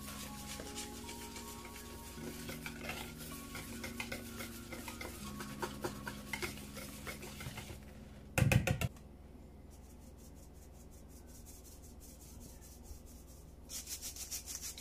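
A spoon or whisk stirs pancake batter with milk in a bowl, scraping and knocking against the sides in uneven strokes, followed by a sharp clatter and then quieter rubbing.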